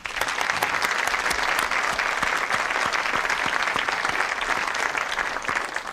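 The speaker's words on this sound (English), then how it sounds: "let's have a ripple of applause for the suspects, please" Studio audience applause on a television panel game show, sustained even clapping from many hands that holds steady and loud throughout.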